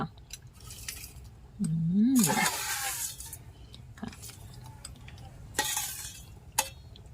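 Rice porridge with minced pork being stirred in a pot after garlic oil goes in, with intermittent bursts of hiss and sizzle, spoon knocks and scraping, and a brief rising-falling tone, near and moderately quiet.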